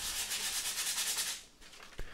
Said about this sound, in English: Next step is to sand it down a little bit